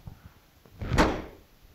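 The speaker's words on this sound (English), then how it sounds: "The door opens and closes like it should." A 1970 Chevrolet Chevelle door swings open and shuts with a firm thud, a brief close sound standing out against quiet surroundings.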